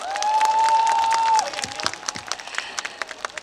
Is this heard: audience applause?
yes